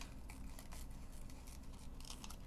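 Scissors snip excess material away from a die-cut stocking shape, a steady run of quiet, close cutting and rustling with no voices.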